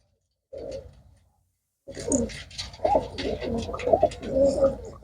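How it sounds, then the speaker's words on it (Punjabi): Pigeons sold as pure-bred birds, red-headed with yellow eyes, give a short coo, fall quiet, then coo in a dense run of overlapping, throaty calls close by. "ਕਬੂਤਰ ਚੈੱਕ ਕਰੋ ਲਾਲ ਸਿਰਾ ਬਾਈ ਪੀਲੀਆਂ ਅੱਖਾਂ"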